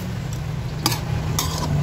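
Chili peppers and shrimp being stirred in a pan for a coconut-milk vegetable dish, giving two short utensil scrapes against the pan over a steady low sizzle, close and fairly quiet.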